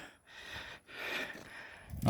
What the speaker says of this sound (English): I'm really breathing.